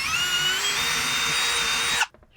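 A power drill bores a hole into a garage ceiling to mount a pull-up bar. The motor whines loud and steady for about two seconds and then cuts off abruptly into near silence.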